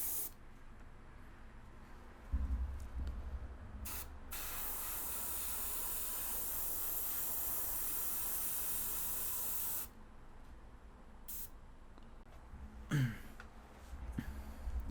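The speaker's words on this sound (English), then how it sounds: "You kind of have to spray a little bit of yellow, just a bit, and then let it dry off to the side" Spray paint hisses onto a 1/144 Exia Avalanche Gundam model kit in yellow: a few short bursts, then one long, steady spray lasting several seconds, and later more brief puffs, all close by.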